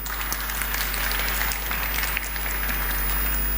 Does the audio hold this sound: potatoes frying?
no